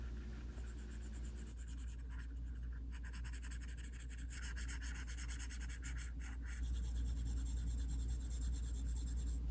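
Stylus writing across a Paperlike 2 matte screen protector on a 2020 iPad Pro, giving a steady soft scratchy rubbing texture that runs continuously, close and quiet, with no talking.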